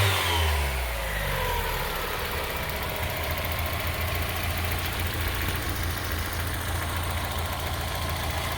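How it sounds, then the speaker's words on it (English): A car engine is revved with the hood up, a loud close roar that sweeps upward and settles into a sustained rumbling drone with strong intake draw and no talking. "This thing draws a lot of, makes a good bit of intake draw when you give it some gas."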